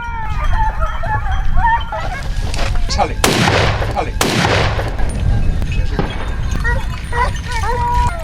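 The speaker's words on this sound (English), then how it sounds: "The first shot rang out, the hunt officially began." Two loud, sharp gunshots crack about a second apart during a wild boar hunt on farmland, each ringing off sharply, amid honking goose-like cries and squeals before and after.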